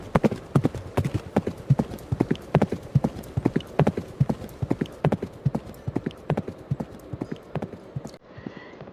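Horse hooves clop in a fast, steady galloping rhythm, loud and close at first, with a brief whinny mixed in, before the hoofbeats cut off near the end.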